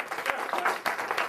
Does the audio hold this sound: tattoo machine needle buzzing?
no